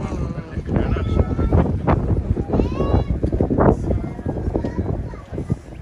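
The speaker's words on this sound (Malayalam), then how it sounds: "ഒന്നും കേക്കൂല, കാറ്റാണ്." Strong gusts buffet the microphone near Uhud mountain in Madinah, a rumbling, uneven wind roar that rises and falls as people talk through it.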